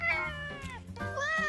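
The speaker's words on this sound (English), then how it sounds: "Cleo doesn't want to be an indoor cat." A cartoon cat meows repeatedly in drawn-out, whining tones, several close, loud calls in a row.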